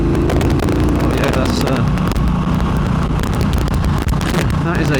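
A 2022 Triumph Bobber motorcycle engine pulls hard under acceleration, a loud, steady low rumble mixed with heavy wind buffeting that runs through the whole stretch.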